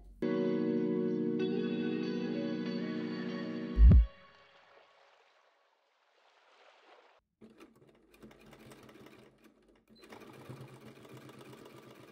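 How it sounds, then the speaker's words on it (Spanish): A sewing machine stitches fabric for a multipurpose bag, a steady humming whir for about four seconds that ends in a sharp thump, followed by faint rustling and handling noises. "Una vez está ya ahí cosiendo, entonces ya podemos empezar a coser."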